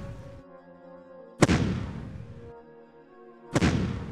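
Two heavy booming shots from a ranged attack in the strategy game Shadow Empire, each a sharp loud blast with a long decaying rumble, spaced about two seconds apart over a quiet musical tone.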